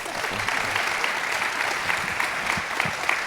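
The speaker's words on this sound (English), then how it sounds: "let's give them a round of applause" Steady applause from an audience at a leadership community gathering, dense continuous clapping throughout at moderate loudness, with faint voices mixed underneath.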